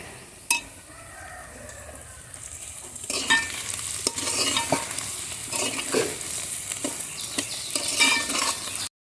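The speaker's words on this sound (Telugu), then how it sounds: "ఒకసారి కూరను ఒకసారి బాగా కలుపుకొని కొంచెం సేపు వేగనివ్వాలి" Raw cashew nut masala curry with turmeric, salt and onions frying in a pan, an early clink, then a loud continuous sizzle with repeated scraping stirs and spoon taps that grows busier midway, no voices.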